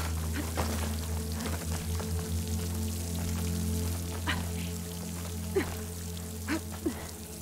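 Flowing water in Horizon Forbidden West near a waterfall, a steady close pouring wash with a few brief splashy drips standing out toward the end, heard alone.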